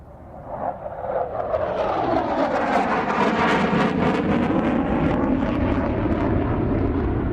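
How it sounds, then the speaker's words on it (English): F-35B stealth fighter making a high-speed pass at an air show. A loud, steady jet roar swells within the first second and holds, with a sweeping, shifting tone as it passes. "The pilot is currently maneuvering for the second high-speed pass from left to right."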